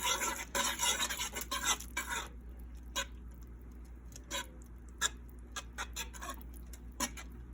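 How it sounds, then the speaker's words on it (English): Shredded cheese being stirred into a sauce with a spoon, a dense scraping burst at first, then soft irregular clicks and taps against the pot, close and fairly quiet. "So I'm just gonna just stir it around in this sauce."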